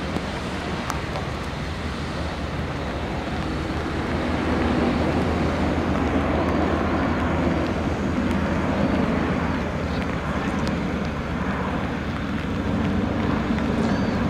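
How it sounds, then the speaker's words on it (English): Airbus A400M transport aircraft pulling up hard at the ILA Berlin air show, heard as a steady, broad engine roar from a distance, swelling slightly midway and holding over the windy outdoor ambience. "During that manoeuvre, the aircraft pulling to, would you believe, plus 3G, a remarkable capability for a transport aircraft"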